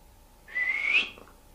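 A single rising whistle heard in a corridor at a supposedly haunted location, brief and fairly faint, sliding upward in pitch over about half a second.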